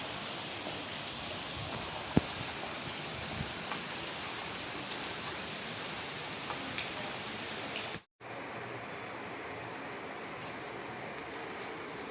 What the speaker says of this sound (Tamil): சரியான மழை ஸ்டார்ட் ஆகிருக்கு